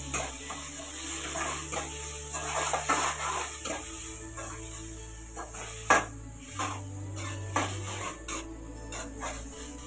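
Tomatoes sautéing in a pan for pumpkin chickpea kuzhambu, a faint, steady sizzle broken by intermittent scrapes and taps of a spoon, quiet and close, no talking.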